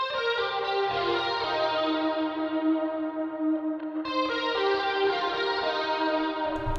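Electric guitar lead through an OCD overdrive with chorus, delay and reverb, playing sustained, shimmering distorted notes that ring out alone with a wide echoing tail, briefly cutting out near the four-second mark before resuming.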